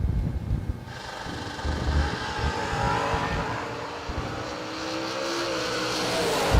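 Drag racing cars roar down the strip at a season-opening drag meet, a fairly distant, sustained engine drone that rises and shifts in pitch over several seconds, with no voices heard.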